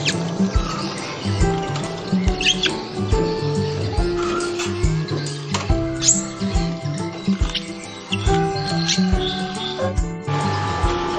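A caged cucak cungkok songbird chirps and twitters busily while bathing, with bright rapid calls layered over splashing and dripping water, close and continuous throughout.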